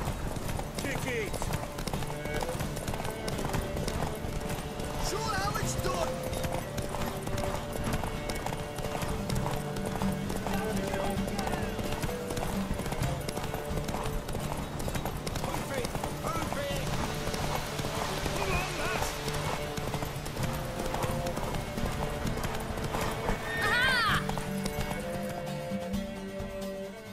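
Horse hooves galloping steadily in The Witcher 3 video game, a continuous rapid clip-clop with a brief whinny, running beneath game music and voices talking.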